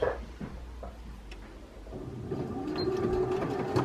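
A sewing machine stitches a short back tack on a blanket, starting with a few faint clicks and then rising into a steady, close mechanical whir.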